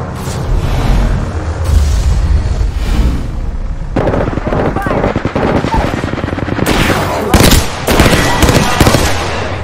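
A frag grenade goes off in the shooter game Apex Legends, with loud booming blasts amid heavy bursts of rapid automatic gunfire, all close and intense.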